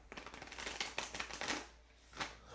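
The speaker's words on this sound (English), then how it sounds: "I am going to continue shuffling out the tarot" Tarot cards being shuffled close up in quick riffling bursts, a steady patter of soft papery snaps that briefly pauses before a final riffle, quiet overall.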